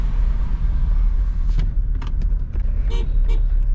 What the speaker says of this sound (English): The horn is really weird.